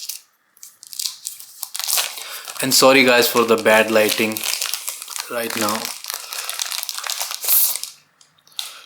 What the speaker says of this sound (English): So I will be just removing it from the plastic bag as well.